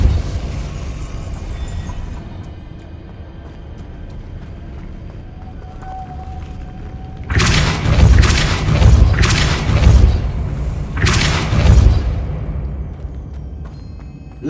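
Depulso force spell cast in Hogwarts Legacy, heard as three heavy booming blasts in quick succession after a quieter stretch with a faint tone, loud and close with deep thumping low end.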